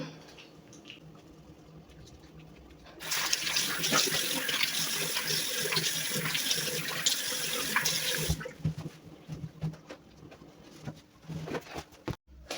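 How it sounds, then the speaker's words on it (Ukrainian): A bathroom tap runs into a sink during face washing and tooth brushing, a loud steady splash for about five seconds before shutting off, leaving quieter handling sounds and a faint dove cooing. "я вже умилася, почистила зуби"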